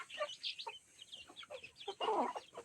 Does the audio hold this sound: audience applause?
no